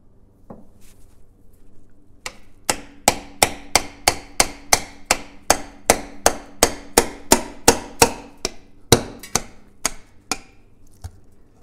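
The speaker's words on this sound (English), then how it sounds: "we're gonna do is come chisel our cover off and drain our fluid" A hammer strikes a chisel to knock the differential cover off a Jeep WJ axle during a fluid service, with about two dozen sharp metallic knocks in a quick, steady rhythm, loud and close.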